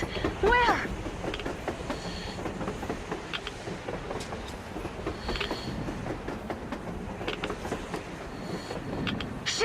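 A train rumbles past on the surface in a post-apocalyptic video game, a steady rolling clatter with scattered metallic squeals, under brief shouted voices.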